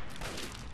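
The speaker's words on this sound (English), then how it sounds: "He really shot me from all the way down there." A single burst of gunfire in Fallout 3, dense and loud, filling the whole brief moment with no break.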